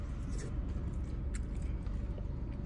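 Crunching bites of hot seasoned fries from a Greek street food spot, a steady close chewing texture with a few sharper crisp snaps, heard alone without talk.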